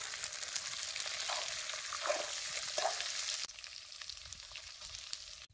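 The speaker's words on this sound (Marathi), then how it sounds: "आता हे सगळं चांगलं तेलात भाजून घ्या" Fresh beans, green chickpeas and peas frying in oil on a wood-fired clay stove, a continuous bright sizzle with a few soft stirring knocks, dropping to a quieter hiss partway through.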